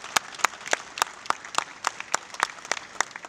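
Sparse, separate claps from an audience at a German Unity Day political speech, sharp and fairly close, coming in an uneven patter with no voices.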